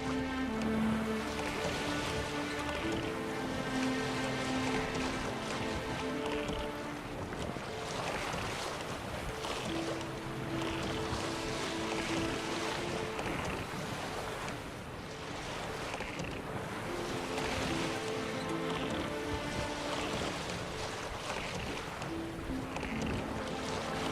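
Waves lapping on a river shore in The Witcher 3, a steady wash of water with wind noise alongside a layered musical score, continuous and fairly loud throughout with no talking.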